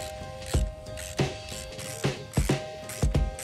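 A 4mm Allen key turning bolts on the belt cover of a Surron Light Bee X, a series of close metallic ratcheting clicks in uneven bursts.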